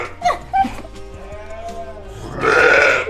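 Sheep bleat in a wavering, harmonic call from nearby, with a brief louder burst of noisy animal sound near the end and people talking softly around it.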